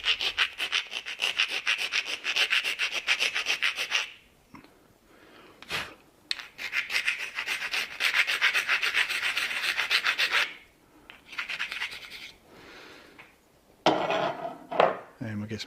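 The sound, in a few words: round file roughening helmet chin mount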